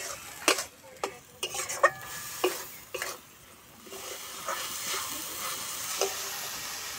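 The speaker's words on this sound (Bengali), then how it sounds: "মশলার সঙ্গে ডাল খুব ভালো করে নেড়ে নেব।" Lentils being stirred into spices in a pan, a spoon scraping and knocking in irregular bursts over a soft, steady sizzle of frying.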